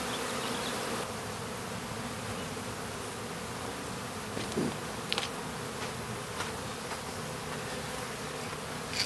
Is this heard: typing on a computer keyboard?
no